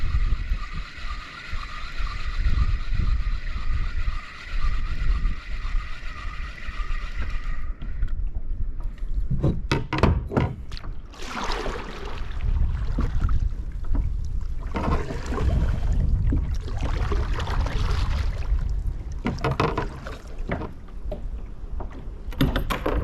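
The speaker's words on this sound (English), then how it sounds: "This wind is insane." Strong wind buffets the microphone while kayak fishing off Exuma in the Bahamas, a loud constant rumbling roar with gusty bursts over water splashing against the hull.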